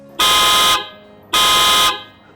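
An upgraded Mercedes Sprinter van horn honks twice, loud and close, each blast lasting about half a second with a brief gap between them.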